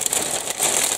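Loose plastic sprues of a 1/72 ModelCollect B-52G Stratofortress kit rustle inside crispy, crinkly plastic bags, giving a continuous close, dense crackling and crumpling that grows slightly louder in the second half, with no talk.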